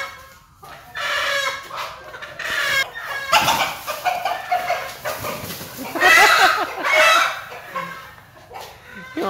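A rooster and hens cluck and call loudly up close in a backyard coop, with overlapping squawks and a dog barking now and then amid faint background voices.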